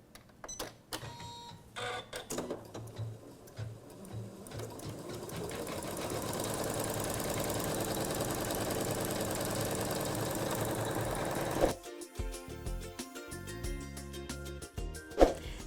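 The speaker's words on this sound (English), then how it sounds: "I love the Skyline S9 because it is so simple to switch from regular sewing to embroidery." A Janome Skyline S9 sewing machine in embroidery mode stitches butterflies into fabric in a hoop, a long close run of rapid rhythmic needle clatter that shifts to choppier bursts near the end.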